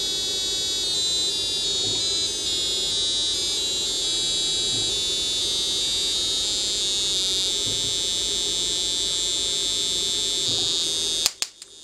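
A piezo speaker driven at high voltage, up to 1000 volts, gives off a loud, steady, piercing electronic tone that shifts pitch in short steps, then cuts off abruptly with a few clicks at the end.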